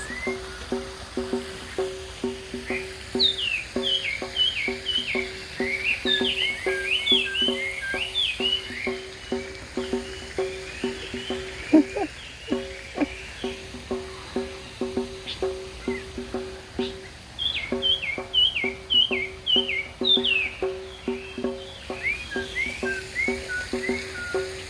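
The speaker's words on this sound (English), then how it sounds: "Look at all these birds." Many birds chirp and twitter in steady, overlapping calls, with a pulsing rhythmic chorus underneath throughout.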